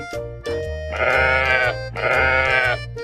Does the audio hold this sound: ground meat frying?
no